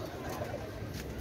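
Pakistani tula racing pigeons coo softly, a low murmuring call that repeats under a faint, steady background hum.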